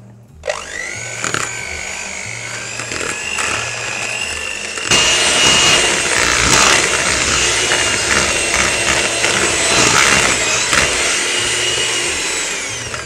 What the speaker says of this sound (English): we're just going to use a hand mixer for this